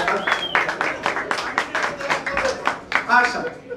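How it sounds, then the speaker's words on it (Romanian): A pub crowd at a live comedy show in Bucharest's old town gives the jury a round of applause: dense, lively clapping heard close, with a host talking over it. "Aplauze pentru juriu, bună seara."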